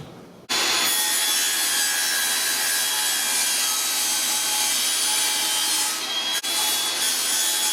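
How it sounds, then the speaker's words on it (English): A refrigerator and freezer unit with an ice maker is shoved on its wheels into a cabinet opening during a house remodel. A loud, steady scraping rumble starts after half a second and runs nearly unbroken, with one brief dip near the end. "It's time to shove the whole unit into the hole and shim up the front wheels."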